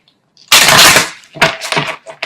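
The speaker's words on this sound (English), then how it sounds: "I gotta shuffle it better than that because I put those back on top." A deck of tarot cards shuffled by hand at close range, a loud riffling burst followed by a few shorter rapid card flutters.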